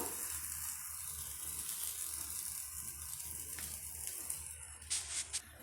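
Ragi roti, a finger millet flatbread, sizzles in oil on a hot pan over medium heat, giving a steady close frying hiss throughout with a few brief scrapes near the end and no talking.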